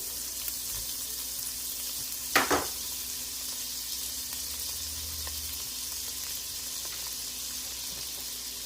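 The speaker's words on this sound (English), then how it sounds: "I'm adding 2 tablespoons of butter. Get that melted a little bit" Butter melting in a pot for beef bourguignon gives a quiet, steady sizzle with a soft hiss throughout, broken by a brief clatter of stirring or a utensil tap near the middle.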